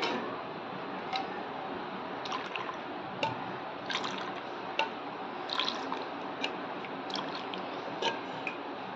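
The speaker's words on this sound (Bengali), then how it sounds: "এবার বাকি দুধটা আমি এর মধ্যে সব ঢেলে নেব।" Milk is poured into a bowl while preparing misti doi, a Bengali sweet yogurt dessert. A soft, steady liquid trickle is dotted with small irregular drips and ticks, close and fairly quiet.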